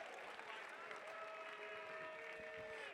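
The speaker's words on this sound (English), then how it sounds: "Let's give a round of applause to all of our bidders tonight" An audience at a benefit auction applauds the bidders, with steady clapping across a few seconds under a busy room background.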